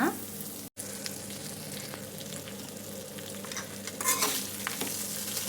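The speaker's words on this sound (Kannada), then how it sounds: "ನಾನು ಅನ್ನ ಹಾಕೊಂಡಿದ್ದೀನಿ ನೋಡಿ ಚೆನ್ನಾಗಿ ಮಿಕ್ಸ್ ಮಾಡ್ಕೊಳ್ಳೋಣ" Cooked rice is stirred into garlic chitranna in a pan, a close, steady scraping and shuffling with a faint sizzle underneath, one brief dropout early on, and no voices.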